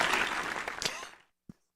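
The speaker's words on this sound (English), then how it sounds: "First one right, you get some claps" A short burst of recorded clapping, rewarding a correct answer, rattles loudly for about a second and then dies away, leaving a single soft knock afterward.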